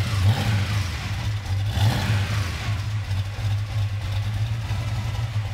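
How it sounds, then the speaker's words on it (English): A 1965 Chevrolet C10 engine runs steadily with a constant gear-driven whining drone and slight rises in revs, loud and close, with no voices. "Unmistakable gear-driven whine, gotta love it."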